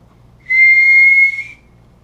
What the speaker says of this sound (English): slowly bring your whistle up so they can see it